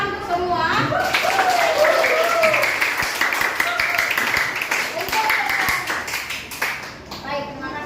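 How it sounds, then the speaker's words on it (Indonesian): A class of schoolchildren claps hands together, sharp repeated claps mixed with children's voices calling out, fairly loud and close, fading toward the end. "tepuk tangan untuk semua"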